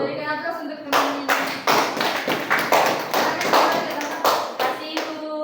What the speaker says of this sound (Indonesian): Berikan aplaus untuk teman ini.